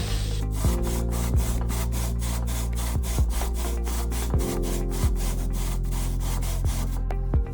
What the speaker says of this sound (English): let's see how this lapping has gone so far